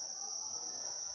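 Farmed crickets chirp in a steady, continuous high trill, faint and unbroken, with no voices.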